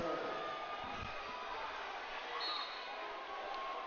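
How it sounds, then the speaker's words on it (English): Crowd at a high school volleyball match between Lake Park and Barrington, cheering and shouting in a steady, dense roar throughout, with no clear single voice standing out. "Let the crowd speak for itself."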